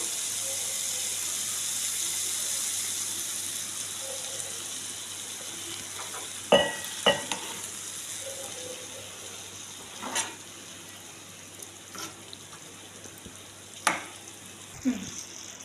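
Liver fries in a pan, sizzling and hissing steadily, with occasional clinks and scrapes of stirring at irregular intervals.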